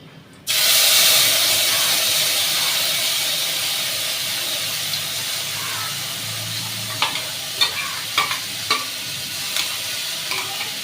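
Panch phoron and spices drop into hot oil with a sudden loud hissing sizzle that holds steady and slowly eases, joined near the end by a few light clicks of a utensil against the pan, close with no talk.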